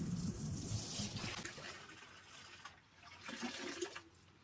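Warm water with washing-up liquid sloshes and pours in a plastic tub used for soaking dusty TV panels, a soft, fairly faint liquid gush that fades and swells in short bursts.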